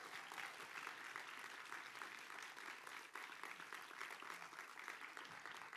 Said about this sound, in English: Let's give a round of applause for Literati.